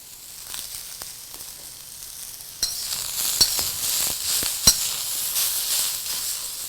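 Cabbage, carrots and capsicum frying in hot oil with chopped garlic and ginger for noodles, a soft sizzle that swells louder after a sharp clatter as the vegetables drop in, with a few utensil knocks.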